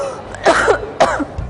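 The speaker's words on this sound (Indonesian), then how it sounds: "Dari tadi aku nggak berhenti batuk, kayak badan aku juga demam." A person with a cold and fever gives two harsh, close coughs about half a second apart, loud and raspy like throat clearing, with no speech.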